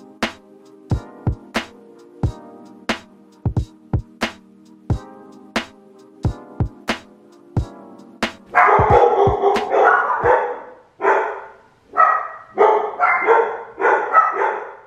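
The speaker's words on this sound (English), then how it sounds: "There's nary a time in which my dogs are not barking." Several dogs bark in sharp, repeated yaps, first as spaced single barks, then as a denser, louder flurry of overlapping barking and yipping toward the end, with no talking.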